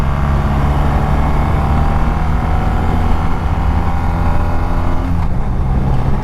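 A 2021 BMW R nineT Pure motorcycle roars steadily while riding, with a brief dip in engine tone as it changes gear near the end, loud and close with wind noise throughout.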